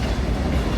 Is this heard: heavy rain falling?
no